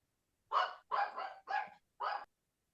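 A dog barks four times in quick succession, each bark full and fairly close, with short gaps between them and no other sound around.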